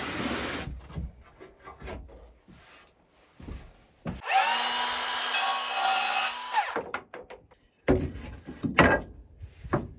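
Wooden trim for outdoor kitchen cabinets being cut with a power saw, one sustained loud whining cut of about two and a half seconds, framed by scattered knocks and handling noises of the wood.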